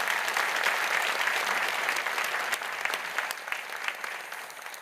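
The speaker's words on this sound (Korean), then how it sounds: "이렇게 박수 치는데 인사 안 하시는 성가대원은 무슨 배짱인지 모르겠습니다" Church congregation applauding its choir and orchestra after a hymn, a steady, dense wash of clapping from many hands that fades slightly toward the end, no speech over it.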